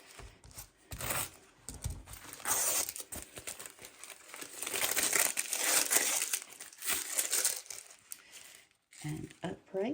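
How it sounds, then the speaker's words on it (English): Paper backing is peeled and crinkled off cardboard box pieces being made into boho junk journal covers. The crackling and tearing is close and fairly loud and runs almost continuously with brief gaps. "take the paper off the back of these"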